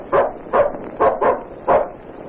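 A dog barks five times in a 1935 radio drama, sharp evenly spaced woofs close to the microphone, with no talking over them.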